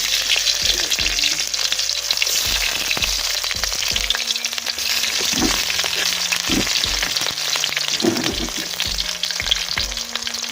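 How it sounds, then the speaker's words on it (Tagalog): Onion and garlic sauté in oil in a pan with a steady sizzle, punctuated by regular scraping and tapping strokes of a stirring utensil, close and fairly loud. "Ayan, nagigisa ako ng sibuyas, bawang, and sibuyas."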